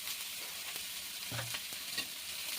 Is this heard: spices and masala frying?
yes